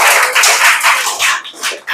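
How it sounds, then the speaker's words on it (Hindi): A classroom of students claps together for a classmate, a dense patter of hand claps that swells and dips over two seconds with no talking. "सुधीर कुमार के लिए जोरदार ताली बजा दीजिए।"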